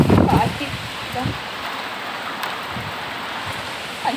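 Heavy rain pours down as a dense, constant wash of noise, with a person talking over it at the start and briefly later.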